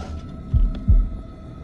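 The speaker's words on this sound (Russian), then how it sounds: "Почему у него такой редкий пульс?" Slow, heavy heartbeat from the video game House of Ashes, two deep low thumps about a third of a second apart, close and alone over a faint steady hum.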